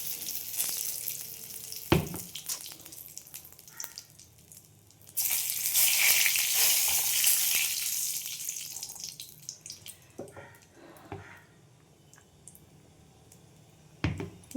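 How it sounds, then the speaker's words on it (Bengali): Washed dried red chillies and a bay leaf hit hot oil for a pumpkin dish. A loud sizzle bursts out for about three seconds, then fades into quieter crackle, with a few clicks and utensil knocks around it. "দুটো শুকনো লঙ্কা, তেজপাতা একটু ধুয়ে নিয়েছিলাম বলে ছ্যাঁক করেছিল।"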